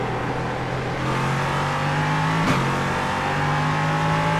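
Race car engine in a Le Mans racing video game, a steady loud mechanical drone that dips slightly mid-way under braking before holding its pitch, close and continuous with no talk.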